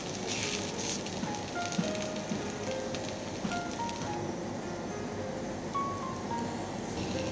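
Chopped kushi vegetable frying in a pan gives a soft, steady sizzle with faint crackles, continuing evenly and quietly throughout.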